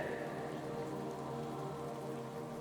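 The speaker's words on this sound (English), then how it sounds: "for the gentle movement of rain and your slow, peaceful steps" Gentle rain falls steadily on leaves and the ground during a quiet walk through a forest, a soft, even patter that stays close and continuous, with no talking over it.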